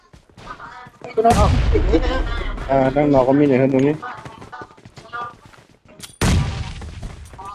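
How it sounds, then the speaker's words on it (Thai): Bombardment explosions in PUBG: two loud, sharp booms about five seconds apart, each trailing off, mixed with someone talking. "ระเบิดลงมาว่ะ ระเบิดลงมา ระเบิดลงมา"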